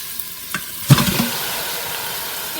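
Camel meat being stirred into onions frying in an Instant Pot, with a few soft scraping stir sounds early on, then a low, steady sizzle continuing quietly on its own.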